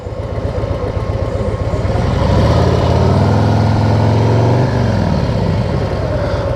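A motorcycle engine runs close by, its low throbbing idle swelling into a brief, heavier rev as the bike rolls into a back garage, then settling back down.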